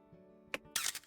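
A camera shutter clicks inside WolfQuest while photographing a wolf pack on a cliffside: one short crisp snap, then a brighter burst of rapid clicks, close and fairly quiet against a soft game background.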